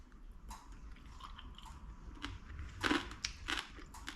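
Quiet, close chewing of crunchy Maltese baked pasta (imqarrun) with scattered crunches and crackles, a few louder bites near the end, no talking.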